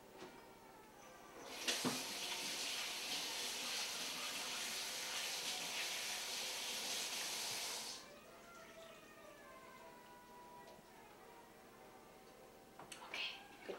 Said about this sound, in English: I do have to wash my hands for a second